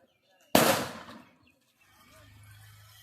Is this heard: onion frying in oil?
no